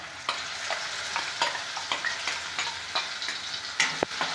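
Prepared masala for a village-style egg curry frying in a pan, a steady close sizzle broken by regular scraping and clinking as a spoon stirs it.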